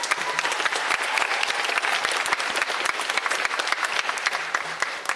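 Sustained, dense applause from a concert audience at a Hilo Complex winter concert, a steady wash of many hands clapping at even loudness throughout, with no talk over it.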